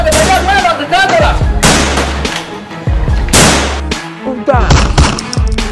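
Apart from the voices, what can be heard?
gunfire in a film scene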